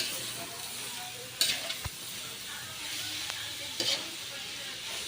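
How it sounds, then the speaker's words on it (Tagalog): Carrots and snow peas sizzle in a pan while being stirred for pancit canton, a steady frying hiss broken by a couple of sharp scraping clatters of the spatula against the pan. "Haluin muna natin para mag-mix talaga sila."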